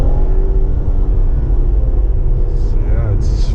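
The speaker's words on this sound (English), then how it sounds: "let's put on the manual, do a little pull on the freeway" Infiniti Q60 3.0T with a manual mode pulling hard on the freeway, a steady loud low engine rumble and road roar filling the cabin throughout.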